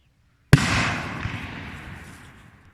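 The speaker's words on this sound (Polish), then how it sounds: "Na dziki Paweł strzelił" A single sharp gunshot fired at wild boars outdoors near a garden, a loud close crack followed by a long fading rumble of echo.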